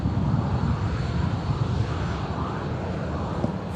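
A Jet2 holidays airliner roars loudly overhead, a dense, steady engine rumble with broadband rushing noise that stays constant throughout, close and unbroken.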